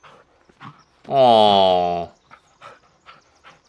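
A dog in the horror video game Blair Witch gives one drawn-out whining bark lasting about a second, loud and close, between a person's short murmured remarks.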